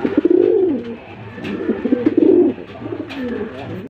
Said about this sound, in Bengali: বন্ধুরা এখানে আরেক জোড়া দোপাস রেসার আছে কবুতর